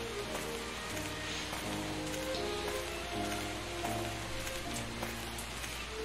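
Steady rain falls through a forest in a Sherlock Holmes video game, a dense even patter with soft low tones droning beneath, continuous and moderately quiet with no talk.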